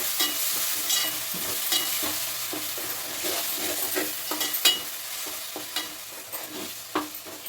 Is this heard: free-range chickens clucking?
no